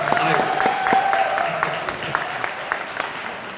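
Brief clapping from a live audience at a talk event, a short burst of scattered applause that thins out quickly beside a faint sustained tone.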